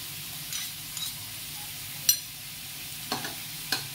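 Garlic and potatoes frying in a pan are stirred, giving a low, steady sizzle with a few brief spatula scrapes and taps spaced through.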